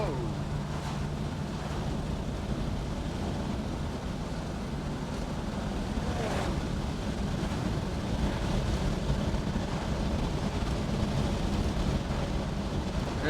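A 1964 AMC Rambler Classic 770 two-door hardtop cruises down the road with all four windows open, the wind buffeting and road rumble forming a loud continuous roar, with occasional speech in the cabin.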